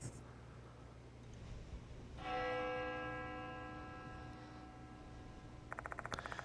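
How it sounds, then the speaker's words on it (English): A single bell rings out in Spirit Hunter: Death Mark II, a clear struck tone that hangs and slowly fades over several seconds against a soft, low ambient backdrop, with no voices. "The sound of a bell echoes in my ears."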